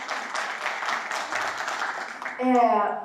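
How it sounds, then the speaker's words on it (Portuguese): Audience at a morning plenary session of a congress breaks into applause for a newcomer, a steady wash of clapping for about two seconds before a voice cuts in over the fading claps. "Uma salva de palmas para a nossa nova Débora!"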